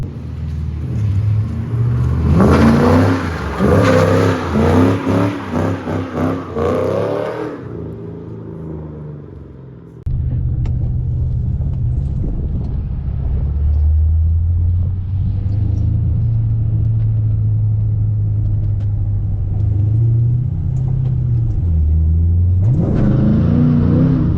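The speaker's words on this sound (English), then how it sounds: "Too much gas on that time. I stalled it out." A Ford Mustang engine revs hard at first, then drops to a low rumbling idle that carries on steadily and picks up again briefly at the end; close and loud with no talking.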